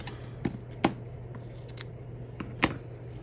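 Scissors cutting through a piece of black lace at a crafting table give a few quick, soft snips spaced irregularly, close by and quiet over a low steady hum.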